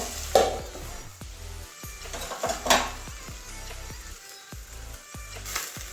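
Potato, cauliflower and carrot pieces frying crisp in a pan, a soft sizzle under repeated scrapes and knocks of a spatula stirring against the metal, with a few louder clatters.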